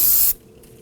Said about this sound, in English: Spray it down with some spray solvent.